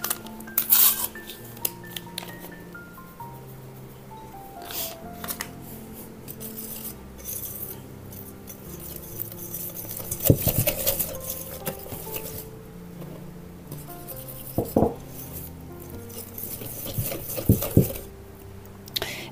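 Cake batter with chocolate pieces being mixed quickly by hand in a bowl, a busy stream of scraping, clinking utensil strokes and soft wet patter, with a few louder knocks near the middle and end.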